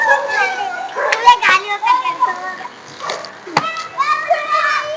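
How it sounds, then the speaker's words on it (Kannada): Dogs bark in short, sharp bursts amid children's chatter and an adult's voice outdoors, with a couple of loud yips standing out over steady talk. "ಬಾ ನಾಯಿ ತೋರಿಸ್ತೀನಿ"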